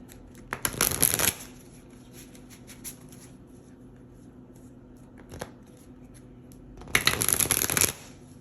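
Angel Tarot cards shuffled in two loud riffling bursts at the start and end, with a soft card pull between them and no talking.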